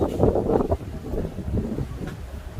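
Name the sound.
strong wind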